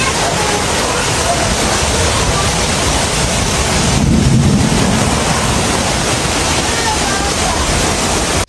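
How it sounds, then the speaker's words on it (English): Heavy, continuous rushing roar of monsoon flash-flood water pouring through streets in Arizona, loud and steady throughout, with a brief surge midway. "Streets that were dry an hour earlier turned into fast-moving channels of water"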